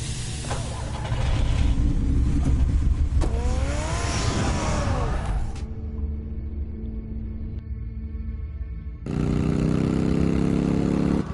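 Car engine in the Batman Telltale video game revs and accelerates away loudly over a dense rumbling bed, then drops to a quieter hum before a strong engine drone returns near the end.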